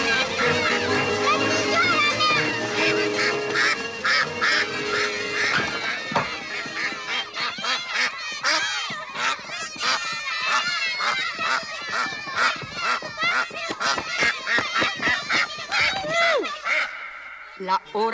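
Ducks and geese quack and honk in a noisy chorus, loud and close with rapid repeated calls throughout, partly overlapping speech and background voices.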